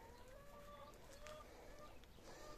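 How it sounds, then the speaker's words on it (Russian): Hens cluck softly in the background among faint farmyard ambience, with brief soft calls rising now and then over a low steady hiss. "Курочки там кудахтают."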